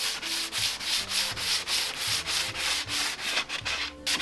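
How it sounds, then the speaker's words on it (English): Sandpaper lightly scuffing the shiny finish of an 80s furniture piece before painting, a steady back-and-forth rubbing rhythm of about eight strokes, close and alone. "I'm just going to take my sandpaper and lightly scuff it."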